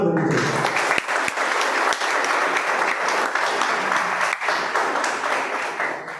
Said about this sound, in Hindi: ताली उनके लिए जोरदार बननी चाहिए।